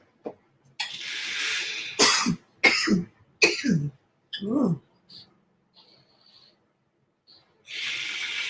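Several sharp, close coughs in quick bursts, separated by short pauses, followed by a throat-clearing sound and a trailing hiss.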